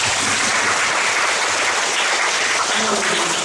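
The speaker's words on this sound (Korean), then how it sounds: "다시 한번 부장님 큰 박수 한번." Steady, dense applause from an audience at a university–industry project presentation session, filling the whole stretch at even loudness with no talk over it.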